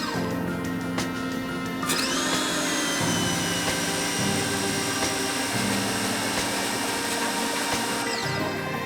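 A Ryobi 1600 psi electric pressure washer runs with a steady close motor whine and hiss, its pump pitch stepping up and down a few times as the trigger cycles.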